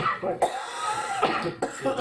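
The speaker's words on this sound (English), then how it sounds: "I still have this hacking cough" A person coughs several times in quick, harsh bursts, close to the microphone, with short pauses between.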